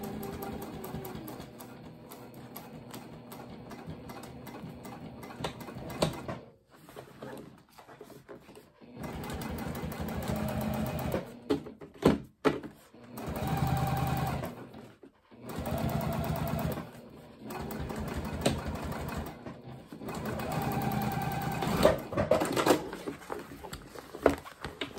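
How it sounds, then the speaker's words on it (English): Sewing machine top stitching down the exterior bottom of a tall tote bag, running in several bursts separated by brief pauses as the fabric is pivoted, fairly loud and close. "I'm just going to pivot and then continue top stitching down the exterior bottom."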